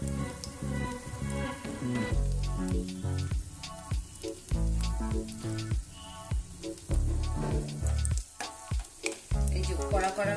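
Stuffed paneer pakoras fry slowly in oil over a low flame. A crisp, crackling sizzle with dense popping bursts runs steadily throughout, fairly close and loud, with no speech.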